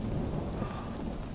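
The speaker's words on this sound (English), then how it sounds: "it's thunder and lightning and everything" Thunder rumbling under steady rain in the Animal Crossing New Horizons video game, a continuous low roll of thunder over an even wash of rainfall throughout, with no talk.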